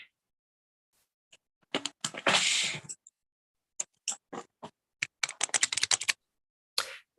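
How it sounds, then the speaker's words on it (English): Typing on a computer keyboard during an online conversation class, with bursts of quick, close key clicks broken by short pauses and one longer run of clatter, no talking. "I think you're typing"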